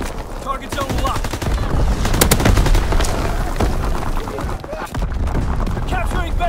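An artillery strike and gunfire in the Call of Duty: WWII video game, during a Domination match on the Shipment 1944 map, make dense, rapid bursts of shots and booms. In-game voices call out over the dense, loud fire.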